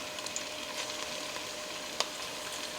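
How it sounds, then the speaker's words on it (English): A heaping tablespoon of food hitting hot oil in a pot on the stove, giving a steady, soft, close sizzle with one small pop partway through and no voices. "And you start to hear the sizzle."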